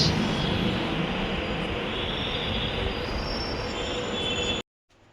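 A train pulls out of a station with a loud, steady rumble of wheels on rails and a high metallic squeal, running unbroken for several seconds before cutting off abruptly.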